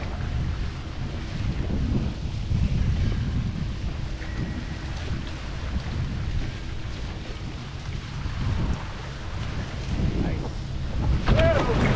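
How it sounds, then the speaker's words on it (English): Strong wind roars steadily across a microphone aboard a foiling sailboat racing in New York Harbor, a constant rushing buffet with water noise beneath and no talking. "There's some good wind up in here"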